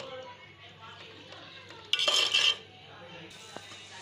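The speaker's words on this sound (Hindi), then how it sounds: "दाल को थोड़ा सा ऐसे भून लेंगे ताकि मसाला पूरा ऐड हो जाए दाल के अंदर जो हमने भुना था।" Moong daal being stir-fried in a pot: a spoon scrapes and clatters against the metal pot in one loud burst midway, with quieter stirring and a faint clink around it, close up.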